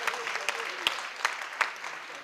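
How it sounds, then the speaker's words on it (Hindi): An audience at a Hindi poetry gathering in a school hall applauds, a dense wash of clapping with a few sharper individual claps standing out, with a voice faintly mixed in. "तालियां कम बजा रहे हो आप।"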